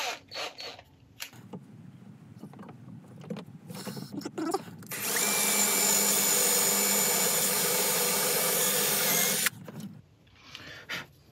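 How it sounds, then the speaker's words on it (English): A power drill bores a hole through a turned wooden piece: after a few bursts of handling and short starts, the drill whines steadily and loud for about four seconds, then stops, followed by quieter handling. "I'm going to drill a hole through here"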